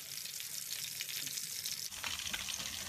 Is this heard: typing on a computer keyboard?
no